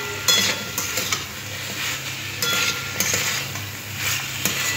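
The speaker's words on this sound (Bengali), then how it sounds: "ধনেপাতাটাও এইভাবে আলুর সাথে মিশিয়ে নেব।" Coriander leaves being stirred into a frying potato curry: a steady sizzle sits beneath repeated scraping strokes of a spoon against the pan, fairly close and regular, with no voices.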